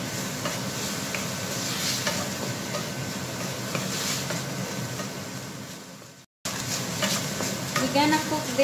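Food stirred and sizzling in a frying pan during home cooking, a steady close hiss with scraping stirs throughout, broken by a brief cut near the end before the frying resumes.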